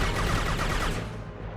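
A quick burst of rapid gunfire from a weapon in the Mass Effect 2 video game, several close shots running together before cutting off abruptly, with no talking.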